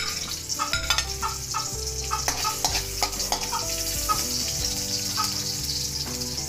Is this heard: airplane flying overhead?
no